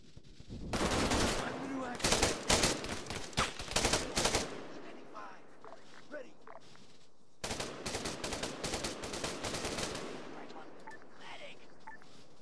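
Arma 3 gunfire crackles in loud, rapid automatic bursts, with a pause before a second volley of repeated shots that fades into scattered, quieter pops.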